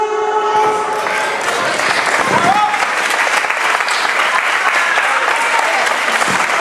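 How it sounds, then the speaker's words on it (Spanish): An audience applauds after a ballroom bolero dance at a town fiesta in Villaviciosa, loud dense clapping that holds steady throughout, with a fading musical tone and some whistles or cheers briefly mixed in. "Un aplauso."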